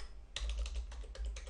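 Rapid typing on a computer keyboard entering a matrix index vector, a quick close run of crisp key clicks with no talk over it.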